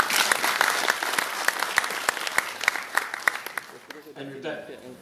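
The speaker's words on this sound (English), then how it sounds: "Please give them a round of applause." A crowd at a public forum on Sabah and Sarawak rights gives a lively round of applause for the working committee, with sharp individual claps over a dense wash, tapering at the end as a voice begins.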